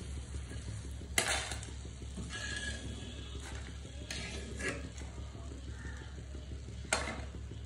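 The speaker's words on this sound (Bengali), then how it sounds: "এখন হচ্ছে আমি এগুলো গোল্ডেন কালার করে ভেজে নিব" Boondi fries in hot oil with a steady, continuous sizzle. A utensil scrapes and clinks against the pan now and then, with a few sharper knocks, and no one speaks.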